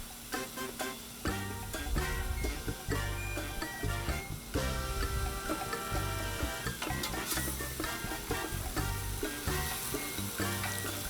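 Hot dogs fry on a 22-inch Blackstone griddle with a steady, close sizzle. Rhythmic scraping and clattering from a metal scraper runs over the top of it throughout.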